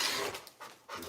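A dog panting after running around indoors: quick, breathy huffs in short bursts with brief pauses, close and fairly loud, with no talking.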